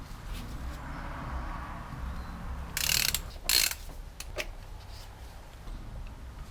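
A ratchet turns a 36mm socket on the oil filter housing of a BMW E46/E39 engine. Several quick bursts of clicking pawl sound close by over quiet workshop background.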